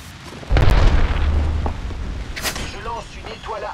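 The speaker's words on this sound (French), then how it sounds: "Je lance une étoile à arc." An arc star grenade thrown and detonating in a video game: one loud, deep boom hits early and rumbles on for about a second, followed by a sharp crackling burst and some faint voice-like sounds near the end.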